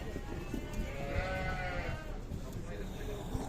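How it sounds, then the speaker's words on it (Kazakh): Young lambs at a busy sheep and livestock market bleat close by, blending into crowd noise while people talk over them. "Мына тоқтылар."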